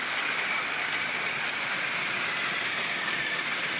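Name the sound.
Trackmaster toy trains running on track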